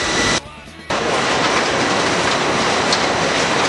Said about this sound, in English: let's get shredding